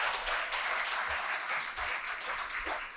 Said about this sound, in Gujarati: એકવાર પુનઃ તાળીઓથી આપણે શાહબુદ્દીન રાઠોડ સાહેબને વધાવીએ.